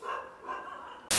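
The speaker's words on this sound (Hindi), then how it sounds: "कुत्ते भौंक रहे हैं" Several dogs bark in the background, mid-distance and moderately loud, in short overlapping bursts, with a sudden loud broadband burst at the very end.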